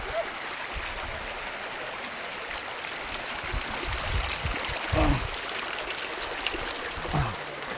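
A mountain stream (sapa) flowing over rocks, a steady rushing and trickling wash of water heard close up throughout, with occasional knocks and faint voices in the background.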